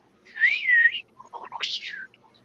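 A human voice imitates crackling, whistling radio noises from an auxiliary control room: a rising and falling whistle, a short crackly sputter, then a second swooping whistle, close and alone.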